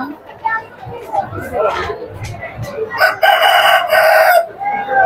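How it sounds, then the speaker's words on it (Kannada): Chickens of the Kaveri and Kalinga Brown breeds at a crowded farm fair, a rooster crowing and hens clucking amid children's voices and people talking nearby. "ಕೋಳಿಗಳು, ಕಾವೇರಿ, ಕಳಿಂಗ ಬ್ರೌನ್"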